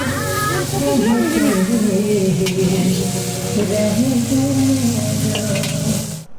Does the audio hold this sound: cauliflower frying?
yes